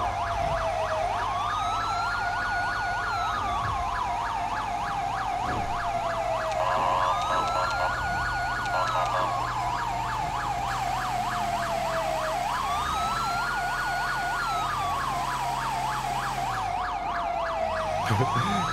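An ambulance siren in GTA 5, from a Freightliner EMS ambulance, wails continuously in a repeating rising-and-falling pattern, loud and close, with a steady engine hum beneath it.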